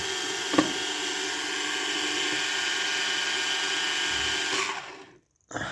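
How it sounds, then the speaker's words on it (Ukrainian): Motors of a small drone whine at high pitch, steady and close for several seconds, then cut out suddenly and briefly start again. "сам працює дрон"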